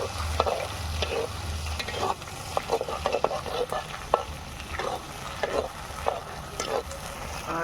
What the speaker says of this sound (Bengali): আদা আর রসুন পেস্টটা ভাজা হয়ে গেছে।